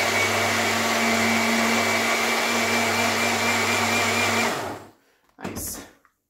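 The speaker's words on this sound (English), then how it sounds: "help the blender to make a better and faster blending" A Sharp SA-FP1001BW personal blender whirs loudly and steadily for several seconds, then cuts off abruptly, followed by a short final burst of the motor.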